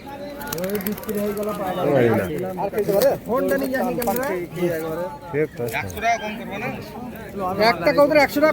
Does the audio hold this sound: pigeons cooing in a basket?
yes